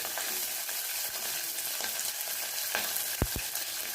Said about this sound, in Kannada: ಕಟ್ ಮಾಡಿರುವಾಗ ಮೆಣಸಿನಕಾಯಿ ಹಾಕ್ತಾ ಇದ್ದೀವಿ ಯಾವ ಥರ ಸೌಂಡ್ ಬರುತ್ತೆ